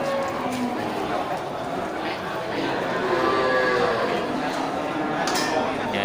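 Cattle at a livestock animal market low now and then against a steady, crowded background murmur, with voices talking nearby.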